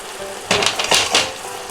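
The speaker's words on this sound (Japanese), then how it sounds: "ゆっくり煮詰める感じで照りをつけていってください" Swordfish simmering in teriyaki sauce in a frying pan over low heat, with soft bubbling and a few clinks and scrapes of a ladle against the pan, brief and close.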